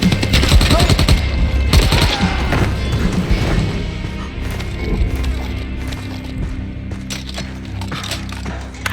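Gunfire from the video game Dying Light: The Beast comes as a dense burst of rapid, loud shots early on and then thins to scattered reports, with game voices heard over the action.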